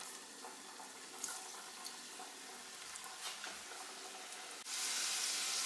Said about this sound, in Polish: Przewracam na drugą stronę i jeszcze teraz chwilę smażę po tej stronie.